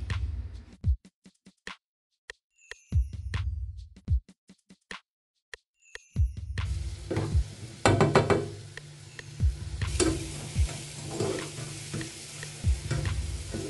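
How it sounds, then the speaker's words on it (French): Shredded cabbage for Cantonese fried rice hits hot oil: a few sparse taps and knocks, then a loud, dense sizzle with scraping stirring strokes that continues to the end. "je rajoute mon chou à l'ensemble de la friture."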